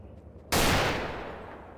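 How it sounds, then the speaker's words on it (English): A single loud, close gunshot from Half-Life 2 gameplay, a sharp sudden blast that trails off into a long, fading echo. "Point the gun, shoot things."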